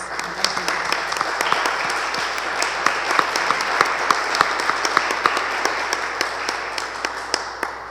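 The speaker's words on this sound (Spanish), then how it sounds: "Les pido un aplauso para la maestra Dolores" Polite audience applause at a sculpture catalogue presentation, many hands clapping steadily with individual sharp claps standing out near the front, sustained for several seconds at moderate volume.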